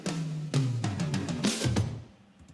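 A second EDM drum fill leading into the drop, a rapid sequence of loud layered hits over booming low end that thins out into a quieter tail.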